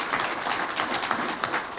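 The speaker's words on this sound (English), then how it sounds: "Let's give Chief Varnell a great hand clap" Audience applauding for Chief Varnell at his swearing-in ceremony, a steady dense wash of many hands clapping throughout with no talk.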